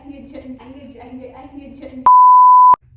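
A timer used during a spicy noodles challenge gives one loud, close, steady beep lasting under a second, right after a stretch of people talking.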